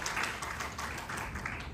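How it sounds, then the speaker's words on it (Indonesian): A church congregation applauding during a sermon, a dense wash of clapping filling the short stretch with no break. "beri tepuk tangan yang dahsyat bagi Tuhan kita"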